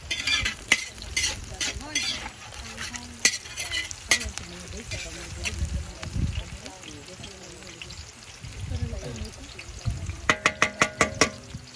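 Lumpia frying in hot oil at a Filipino fiesta cook-up, with a steady sizzle under stirring and utensil clinks, voices chattering throughout, and a quick run of metallic taps near the end.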